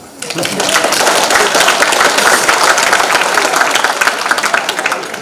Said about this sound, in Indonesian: Ada yang tepuk tangan